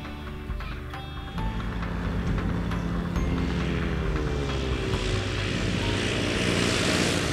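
A SeaMax seaplane's propeller engine drones loudly and steadily, building in from a quieter start and holding a sustained roar with no voices.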